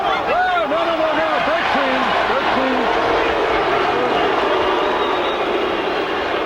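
A Norfolk boxing crowd at a WBC welterweight title fight boos McGirt, a loud, sustained roar of jeers running throughout, with a commentator's voice talking over it.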